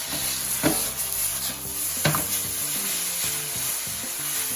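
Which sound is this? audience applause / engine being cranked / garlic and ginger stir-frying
garlic and ginger stir-frying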